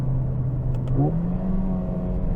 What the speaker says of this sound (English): it sounds really good when you're climbing through the gears on the way up